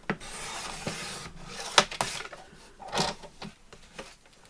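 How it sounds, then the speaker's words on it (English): Paper is cut to remove a branding strip, giving soft close rasping, rubbing and snipping sounds in short irregular bursts in a quiet room. "Just going to cut the branding strip off."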